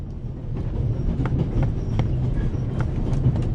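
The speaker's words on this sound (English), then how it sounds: "The noise on this train is driving me crazy." Steady rumbling rattle of the Orient Express train in The Raven Remastered, a continuous clattering rail noise with faint rhythmic knocks throughout.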